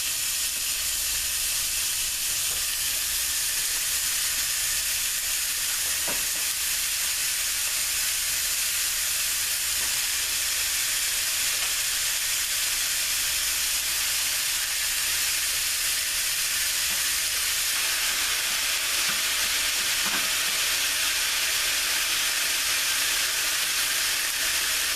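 Ground beef and Italian sausage brown in a pan over medium-high heat, giving a constant loud sizzling hiss with faint stirring knocks now and then.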